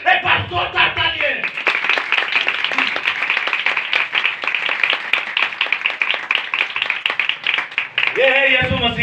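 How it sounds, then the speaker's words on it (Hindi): Loud, vigorous applause from a church congregation during a Christian sermon, many hands clapping rapidly for several seconds, with a speaking voice briefly at the start and end. "खुदा की बाइबल मुकद्दस के लिए एक बार जोरदार तालियां"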